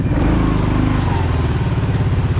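Kawasaki Prairie 650 ATV on low gear in deep mud, its engine running loud and steady close by with a throbbing low drone; a faint whine over the engine may be the drive belt squealing.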